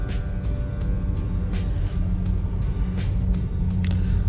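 A car idling and creeping through congested street traffic near a school letting out, a low continuous engine rumble with faint passing road noise around it.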